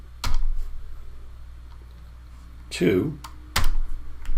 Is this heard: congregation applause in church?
no